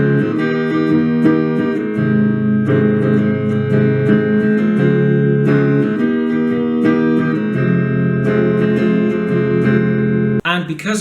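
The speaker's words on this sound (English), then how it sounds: "So now let's jump right into the chorus, which should sound like this." Guitar strumming the chord pattern of the chorus of a song, steady rhythmic chords, close and fairly loud, with a brief cut at the end.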